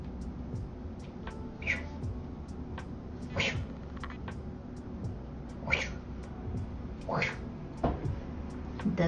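A cat gives a few short, faint meows at intervals indoors, spaced several seconds apart over a quiet room with light background noise.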